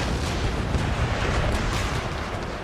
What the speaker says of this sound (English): Get ready for a right broadside at that rosé when it comes around.